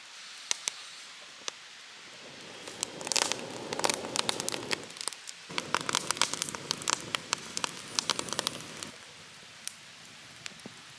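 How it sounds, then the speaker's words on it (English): A campfire burning oily bunya leaves crackles and pops steadily outdoors, with dense bursts of sharp snaps over a soft hissing bed that swells and eases over several seconds. "All that oil in the bunya leaves. Popping away. Crackling."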